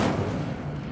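Incendio fire spell cast in Hogwarts Legacy, a single loud, dense burst of low rumbling fiery whoosh that fades slightly over one second, with no voices.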